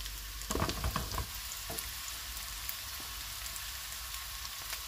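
Garlic and dried chili sizzle in a hot pan with onion, a soft, even frying hiss under a few brief stirring clatters at the start, quiet and continuous throughout.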